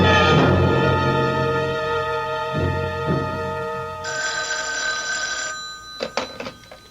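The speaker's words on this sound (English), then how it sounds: "I've got to make a phone call." A telephone rings in a radio drama, a loud sustained electric bell ring followed by a second brighter ring burst, then a few faint clicks as the handset is picked up.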